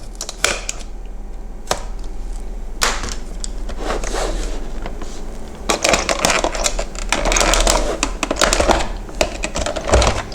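Someone pries open and unlatches the plastic display housing from a 2000 VW T4, a close-up run of sharp plastic clicks, snaps and cracks in irregular bursts with short pauses between them.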